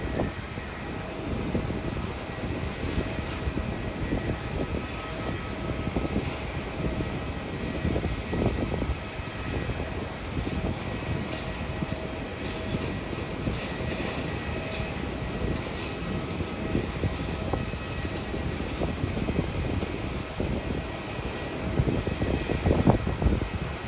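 A Patrick Airlines airliner taxiing toward the gate, its engines giving a continuous low rumble and whine that stays even from start to finish, with a slight swell near the end and no talk.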